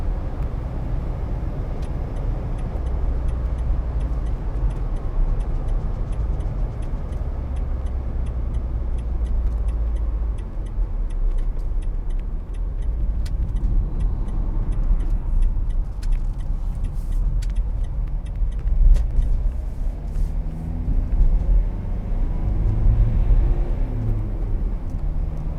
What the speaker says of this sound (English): Not a lot of vehicles out there that drive as good, if not better, than this van.